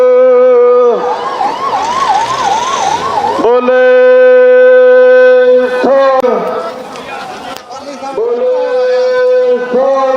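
A loud ambulance siren wails up and down, then blares in steady horn-like tones, close and dominant, with voices underneath, at a farmers' protest met with water cannon and tear gas.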